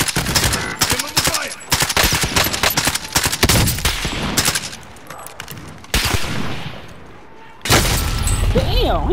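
Loud, dense automatic gunfire in Call of Duty: Modern Warfare rattles in long bursts with sharp cracks and brief pauses, close and harsh throughout.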